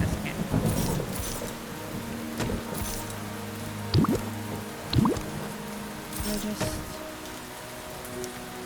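Rain falls steadily across a video game island survival world, with a few soft low rumbles of thunder and scattered drips over a constant wash, no talking.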